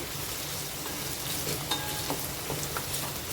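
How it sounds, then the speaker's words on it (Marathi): Capsicum is sautéed with egg in a pan, a steady close sizzle with the light scrape and patter of stirring running through it, and no one speaking. "आता याच्यात आपल्याला शिमला मिरची टाकायची आहे शिमला मिरची पण दोन मिनटं आपल्याला पर परतून घ्यायचे"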